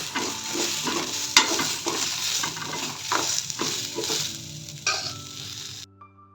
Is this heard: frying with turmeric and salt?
yes